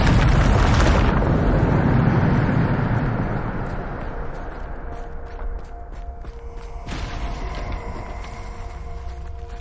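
A Bombarda blasting spell goes off in Hogwarts Legacy with a loud, roaring explosion that fades over several seconds into rumbling debris and a few faint creaks.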